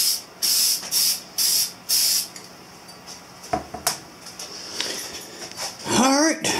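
A white spray paint can hisses in five short bursts as a coat goes onto the gas tank of a 1983 Honda CB1000 custom, followed by a couple of clanks and a clatter at the end.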